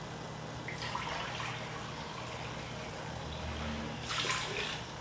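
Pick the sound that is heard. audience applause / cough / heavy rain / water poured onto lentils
water poured onto lentils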